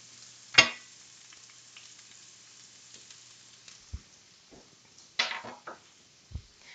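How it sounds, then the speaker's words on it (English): Plant-based food cooks in a pan over medium heat, giving a low steady sizzle, with a sharp clatter near the start and several soft knocks of utensil or pan later on. "we're gonna cook this again. Just over medium."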